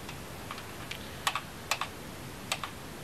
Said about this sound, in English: You can hear the drive kicking in there.